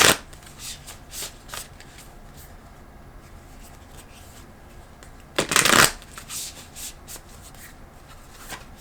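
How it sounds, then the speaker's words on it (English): Moonology oracle cards are shuffled close up, with soft riffling bursts scattered through the stretch and a louder, longer shuffle near the end, no talking. "I'm going to pull one more card. Let's do Moonology"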